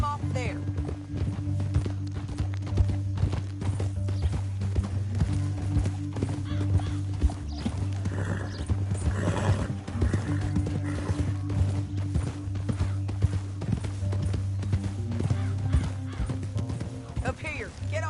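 Horse hooves clip-clop in Red Dead Redemption 2, a steady walking rhythm with an occasional neigh, heard under in-game voices talking and a low droning musical score.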